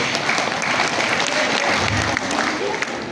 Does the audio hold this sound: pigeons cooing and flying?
no